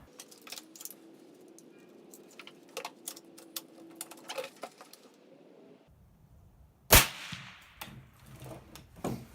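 A .223 rifle fired through a Rugged Surge 762 suppressor lets out a single sharp, loud crack. Light clicks and handling noises come before the shot, and a brief fading tail follows it.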